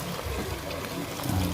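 Boiled water pours and splashes into a cooking pot for a brief moment, a close, gurgling rush without speech.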